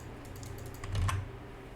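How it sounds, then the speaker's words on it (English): Quick, light keyboard typing, a short run of clicking keys close by over a low electrical hum. "Hopefully the keyboard doesn't sound too much"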